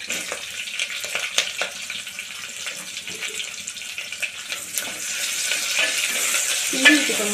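Chopped onions and green chili sauté in hot oil for coconut milk rice, giving a steady close sizzle broken by scraping stirs in the pan, growing a little louder toward the end.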